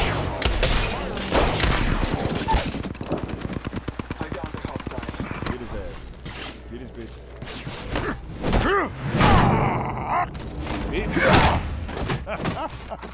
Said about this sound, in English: Hey, I'm getting shot! Someone just shot his at me.